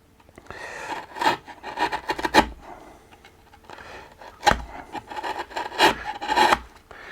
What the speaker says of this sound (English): I'm using a chisel to remove all these pointy bits